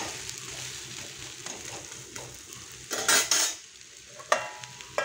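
An omelette fries in oil in a pan, giving a steady soft sizzle with scraping stirs and a burst of metallic clatter from a spatula against the pan partway through.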